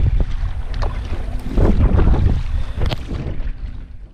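Wind rushes and buffets steadily across the microphone while kayak fishing at sea near a wreck in the Gulf of Paria, Trinidad, with low roaring gusts swelling and easing throughout and faint water and hull knocks beneath.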